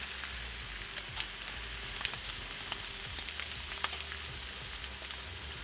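Stuffed pork chops sizzle steadily on a grill, a continuous soft crackle with scattered small pops, fairly quiet and close, with no talk.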